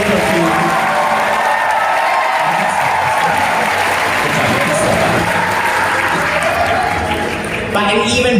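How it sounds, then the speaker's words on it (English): An aquarium audience at a dolphin show breaks into loud, sustained applause with scattered cheers, filling the space evenly and close, with a voice carrying over the crowd. "Let's hear it for our amazing dolphins, Lily and Coquina."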